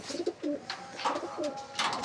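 Pigeons in a loft coo in repeated low, warbling phrases at close range, with brief higher chirps and rustles between the calls and no talk.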